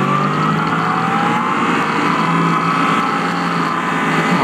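A Yamaha MT-10 motorcycle pulls away and rides on, its engine droning steadily and loudly throughout with rising tonal hum and no speech.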